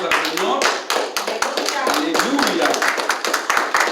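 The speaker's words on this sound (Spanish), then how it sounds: "Ofrenda de palmas al Señor." A church congregation claps hands together as an offering of praise, a dense sustained patter of many sharp overlapping claps with voices mixed in throughout.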